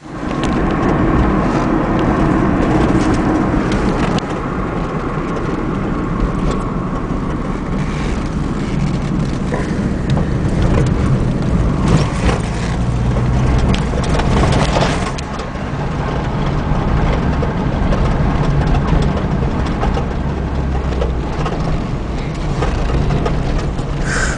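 A turbo diesel Chevrolet Blazer project truck drives steadily for the whole stretch, with a continuous loud rumble of engine and road noise and occasional knocks and rattles from the cabin.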